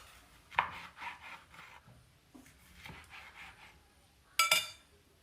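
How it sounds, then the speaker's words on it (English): Knife slicing tomatoes on a cutting board for a kontomire stew, giving a few scattered chopping knocks with one sharper clatter near the end, close and fairly quiet. "I'm going to slice my tomatoes"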